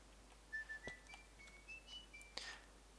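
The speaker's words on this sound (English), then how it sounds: "That little whistle is actually, for any of you who don't recognise it, is the whistle from the Old Spice commercials." A short melodic whistled tune, the jingle from the Old Spice commercials, plays quietly as a few thin tonal notes over a faint background, ending with a brief brighter burst.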